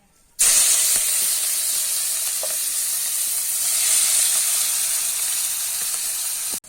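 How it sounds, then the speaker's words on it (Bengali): Onion dropped into hot oil in a pan, bursting into a loud, close, steady sizzle that holds evenly for several seconds before stopping abruptly. "তেল দিয়ে দিচ্ছি, এবার পেঁয়াজ দিয়ে দেবো"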